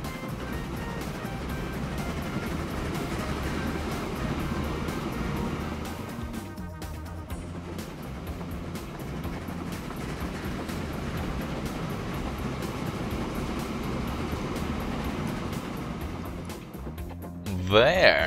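A train in the railway-building game Train Fever rumbles along steadily under continuous game background sound, with a brief dip partway through before the running noise resumes.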